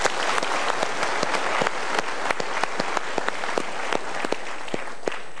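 Thick, sustained applause from a large live audience at a motivational talk show, loud and even from start to finish with occasional sharper claps standing out.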